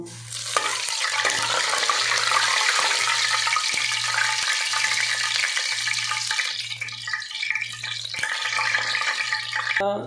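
Cumin and fennel seeds fry in hot oil, giving a loud, steady sizzle and crackle close up, with a faint low periodic hum running underneath.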